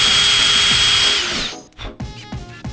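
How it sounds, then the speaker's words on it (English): A power drill bores holes into a plastic car bumper, its steady high whine running loud and close for about a second and a half before cutting out, followed by a few scattered knocks and handling clatter. "We'll drill 1 hole there and 1 hole directly across from it"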